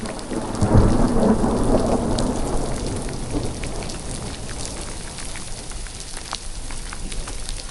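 Heavy rain pours steadily through a thunderstorm as a loud, close thunderclap rumbles early on, then the downpour keeps hissing alone.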